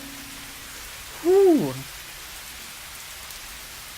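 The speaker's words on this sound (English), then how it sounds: "the rain's apathetic pattering were the only sounds that registered in my dim consciousness" Rain patters as a steady, soft hiss throughout, with one brief voiced exhalation rising over it near the start.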